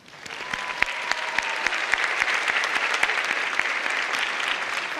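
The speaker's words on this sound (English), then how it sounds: "Let's give them a round of applause as well." Audience applause at an afternoon college commencement ceremony: a large crowd claps steadily and densely throughout, loud and sustained, with sharp individual claps standing out near the microphone.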